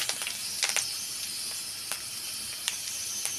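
Mustard seeds and curry leaves sizzle in hot oil for a pumpkin erissery, a steady high hiss broken by sharp little pops and crackles scattered across the clip.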